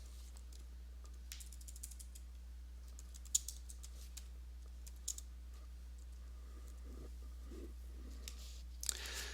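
Sparse typing on a computer keyboard, faint scattered key clicks with a few louder taps, heard over a quiet room and a low steady hum.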